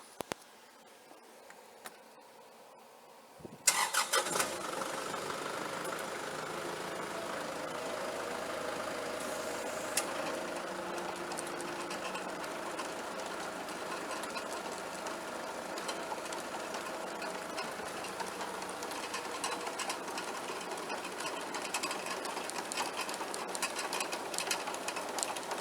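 A converted sickle mower driven by a tractor starts up after a quiet lead-in, then runs continuously with a rapid, buzzing mechanical clatter over a steady engine drone, fairly close and unbroken.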